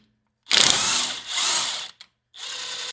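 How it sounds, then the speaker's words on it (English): A pneumatic impact wrench removes an 18 mm control arm bolt on an Audi B5 S4, firing in three loud, close bursts with brief gaps between them. "we're actually gonna get our impact in here to remove the bolt."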